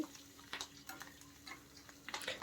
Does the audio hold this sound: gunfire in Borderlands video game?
no